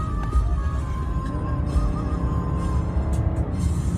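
A BMW 760Li accelerates hard at full throttle, its engine note climbing steadily under a continuous low road rumble, heard from inside the car and fairly loud throughout.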